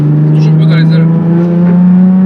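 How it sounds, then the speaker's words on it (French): Nissan VQ35DE V6 engine running with a loud, steady drone held close by, while a person talks over it throughout. "J'adore ce moteur, vraiment c'est. Ah là là, oui, le VQ35DE, c'est son petit nom."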